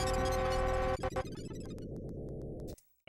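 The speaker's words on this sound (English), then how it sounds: "that sound is definitely from when you get an error in Sonic EXE" Error sound from the video game Sonic EXE: a loud, harsh, distorted buzzing tone that breaks into a crackling, glitchy stutter, then cuts abruptly to near silence.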